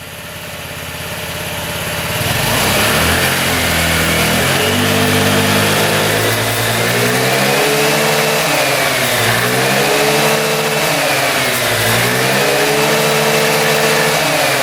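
Scooter engine with a bent-up airbox revving out steadily, a loud, close, buzzing drone that rises and falls in pitch through repeated throttle swells, alone without talk.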